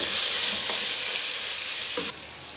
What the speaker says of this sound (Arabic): ودلوقتي قلبت الرز اهو